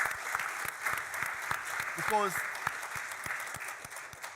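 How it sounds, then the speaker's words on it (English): Audience applause at a global malnutrition panel session, a steady wash of many hands clapping with a brief spoken word over it midway. "Please give a big clap."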